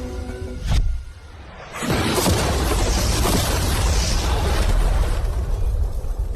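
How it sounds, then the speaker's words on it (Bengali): An ordinary car with mannequins inside blown up by an explosion: a short blast, a brief lull, then a long, loud, broad roar of debris and rushing noise that fills the rest of the stretch, with no talking. "বিস্ফোরণটা এত জোরে হয়েছে যে ভিতরের ম্যানিকুইন গুলো ছিটকে এদিক ওদিকে বেরিয়ে গেছে।"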